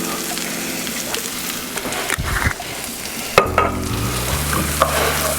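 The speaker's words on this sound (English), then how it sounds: "I'm just gonna stir this up, and if I notice that the pan is a little dry, I'm just gonna add in a few drops of olive oil" Rice and pasta being stirred in a pan with olive oil for a rice pilaf, a steady close sizzle and frying crackle broken by scraping, clattering strokes of the spoon against the pan.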